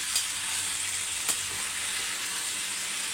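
Curry leaves sauté in a hot pan, giving a steady, close frying sizzle with a couple of faint stirring clicks and no talking.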